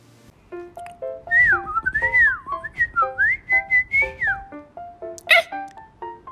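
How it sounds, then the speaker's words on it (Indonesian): Birds chirp and whistle in bright, rapid repeated notes, some rising and falling in pitch, close and fairly loud with short pauses between phrases, heard alone without talk. "Itu kenapa burung cuit-cuit ya? Cuit berisik banget."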